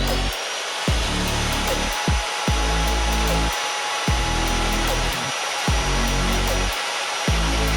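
MagPro 35 Kompakt magnetic core drilling machine running steadily, a loud continuous whine over a low rumble, with bursts that recur about every second and a half.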